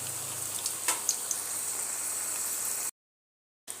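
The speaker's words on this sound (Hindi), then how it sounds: "तो देखिए इसको डाल दिया है और इस तरह से आप कोई भी तीली से किसी चीज़ से इस तरह से इसको अलग अलग कर सकते हैं" Besan-battered bitter gourd strips fry in hot oil, giving a steady, close sizzle with a few crackling pops that cuts off abruptly near the end.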